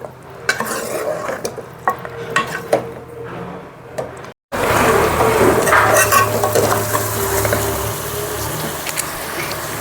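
Mutton curry with chilli powder and cumin powder is stirred in a pan, a utensil scraping and clinking over a steady loud sizzle that drops out briefly, then returns fuller and busier.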